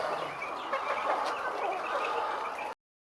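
Laying hens clucking inside a modern poultry egg farm, a dense, steady chorus of many birds close by with no talk, cutting off abruptly near the end.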